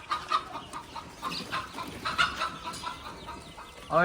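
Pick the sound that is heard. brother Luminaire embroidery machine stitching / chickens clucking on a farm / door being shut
chickens clucking on a farm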